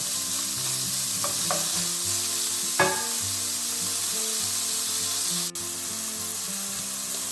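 Lamb pieces browning in a hot pan for a stew give a loud, steady sizzle and crackle close by, broken by a few soft scrapes and clinks, with no voices.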